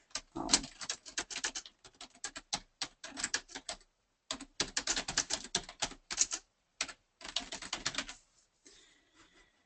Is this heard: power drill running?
no